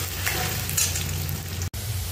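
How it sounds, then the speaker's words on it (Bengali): Diced potatoes frying in hot oil for a vegetarian potato and cauliflower dish, giving a steady close sizzle with light stirring scrapes, a brief dropout near the end, no talking. "আলুগুলোকে খুব ভালোভাবে ভেজে নেব,"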